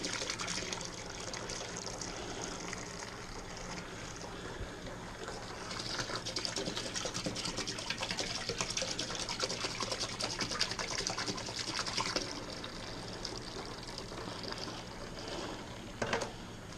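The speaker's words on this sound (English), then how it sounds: "it's just a standard little splash of aeration" Beer wort splashes and gushes into a fermenter for aeration on a home brew day, a continuous close liquid rush that swells and eases across the whole stretch without any talk.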